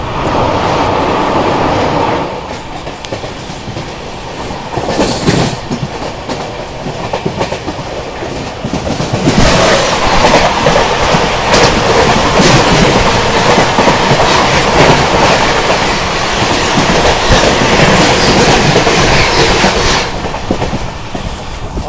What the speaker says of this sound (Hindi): यहाँ पर अभी सामने से आ रही है मुंबई सेंट्रल नई दिल्ली तेजस राजधानी एक्सप्रेस।